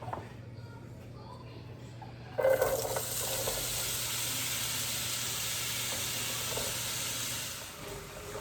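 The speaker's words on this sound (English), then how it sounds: "when the butter's melted, we'll pour in our whisk and seasoned egg" Whisked, seasoned eggs hit melted butter in a frying pan for a frittata and break into a loud, steady sizzle that holds for several seconds, then fades slightly toward the end.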